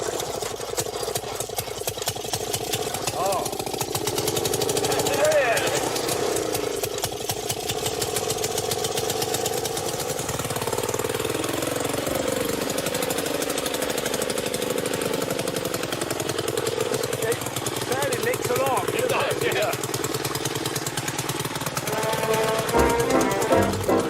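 An old motorised lawnmower engine running steadily, a loud close mechanical chugging drone with shifting pitch as it works, continuous throughout.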